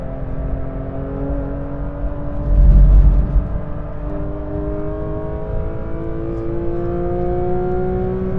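A Porsche 911 GT3 RS of the 992 generation accelerates hard on a race track, its engine climbing steadily through rising revs in a loud, continuous near-field roar, with a brief heavier burst early on and no talk.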